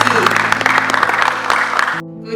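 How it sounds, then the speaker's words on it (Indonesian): Audience applause at a school parenting seminar in Malang, a dense, steady clapping from a hall full of parents that continues loudly for about two seconds and then cuts off abruptly. "Boleh berikan tepuk tangan yang meriah Bapak Ibu"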